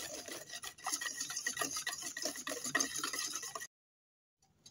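A spoon or whisk works banana cake batter with milk and yogurt in a bowl, giving a close, steady wet scraping and rubbing that runs for over three seconds, then stops abruptly into near silence.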